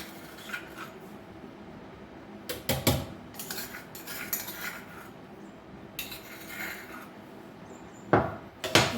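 A spoon stirs and scrapes a spice paste into a pot of buttermilk curry, giving intermittent metallic clinks and knocks against the pot in short bursts, close by, with no talk.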